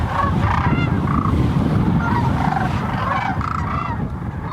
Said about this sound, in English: Every spring, thousands of cranes converge on the Platte River to refuel on their way north.